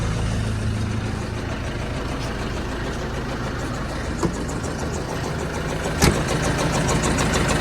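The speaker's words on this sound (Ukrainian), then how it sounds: "Тихенько моторчик робить, в принципі." A steady, low BISON 110-horsepower tractor engine idling nearby, heard from outside, a continuous rumble with a couple of small clicks.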